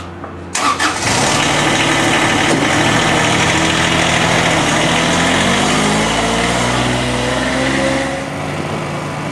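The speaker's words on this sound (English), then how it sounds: "today we're triflexing the greens, which is a riding mower" A riding triplex greens mower starts up and settles into a loud, steady engine drone close by, with harmonic whine shifting slightly before the revs ease off near the end; no one speaks.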